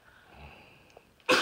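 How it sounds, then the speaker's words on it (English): A child sneezes once at the very end, a sudden loud burst after a quiet indoor stretch. "I have to sneeze."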